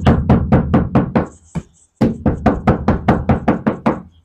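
Knuckles rap quickly on the thin ceiling panel of a Hyundai Stargazer before sound deadening is fitted, about sixteen hollow, tinny knocks in two fast runs split by a short pause, close and loud.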